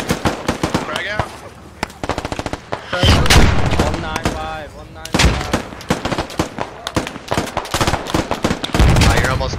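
Frag grenade thrown amid heavy gunfire in the tactical shooter Squad, with rapid bursts of automatic fire, sharp loud booms around the middle and a blast near the end, and voices calling out over the din.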